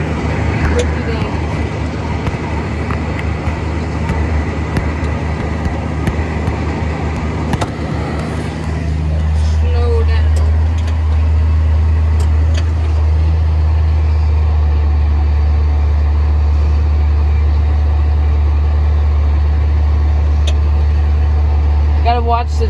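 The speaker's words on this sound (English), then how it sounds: "A John Deere tractor is easy to drive, especially this 7810." A John Deere 7810 tractor engine runs close by with a steady low drone that deepens and grows heavier partway through as it pulls away, with people talking over it.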